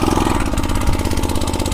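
A small handmade tractor's engine chugs at a steady idle just after starting, its fast, even put-put beat loud and close.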